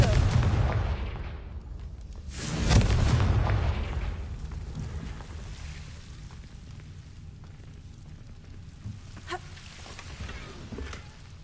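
Confringo spell blast in the video game Hogwarts Legacy: a deep, rumbling explosive boom that swells and slowly fades, with a second softer thump after it, then low ambient game noise.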